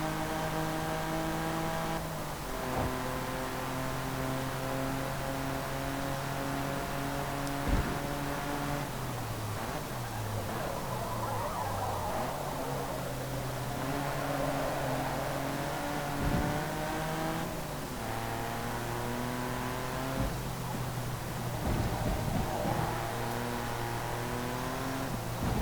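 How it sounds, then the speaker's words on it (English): Race car engine revving on a circuit in the Forza Motorsport 2 racing game, a steady loud engine drone whose pitch climbs through the gears and drops at each shift, with brief tire squeal. "the engine gets up to a decent rate of speed on this circuit."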